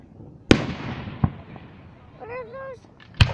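Fireworks burst at the North Andover display: three sharp, loud booms spaced about a second apart, with whistling, wavering rockets rising between them and a faint crackle trailing off.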